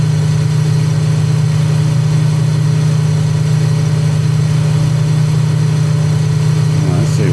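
Steady droning of a Focke-Wulf FW 190-A4's piston engine at full throttle in Microsoft Flight Simulator, a constant loud hum with no change in pitch throughout.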